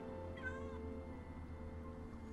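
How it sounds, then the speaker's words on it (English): A cat meows inside the video game Minecraft, one drawn-out, slightly rising call over a steady droning background hum, moderately close and clear. "That was the Minecraft cat."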